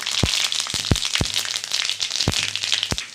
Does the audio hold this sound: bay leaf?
yes